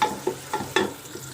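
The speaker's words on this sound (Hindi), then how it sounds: "अब इसमें मैं ये प्याज शामिल कर दूँगी, इसको मैं गोल्डन ब्राउन होने तक पकाऊँगी।" Onions fry in oil in a pressure cooker, a close, soft sizzle broken by a few distinct scraping strokes of a stirring spoon, with no voices.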